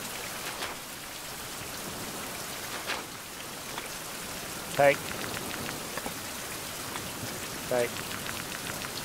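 Video game rain in Survival Fountain of Youth patters softly and steadily, a faint continuous wash with a few brief louder clicks, while a voice speaks a couple of short words.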